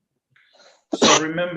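A single sharp sneeze bursts out close by after a faint breathy lead-in, immediately followed by a person starting to speak.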